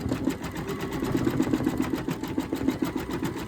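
An embroidery machine stitching the center of a flower on a quilt block, its needle chattering in a fast, steady mechanical rhythm close by with no voices.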